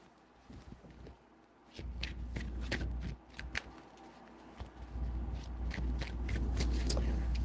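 Tarot cards shuffled by hand in repeated bursts of crisp riffling and soft slaps, close and clear, with a low handling rumble between the shuffles.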